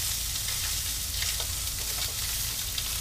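Blackened red drum fillets fry in a nonstick pan, giving a loud, dense, continuous sizzle and crackle that holds steady throughout with no voices.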